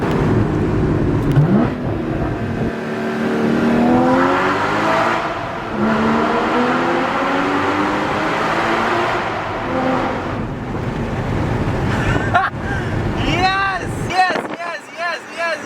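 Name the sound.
Porsche Cayman GT4 stock exhaust revving in a tunnel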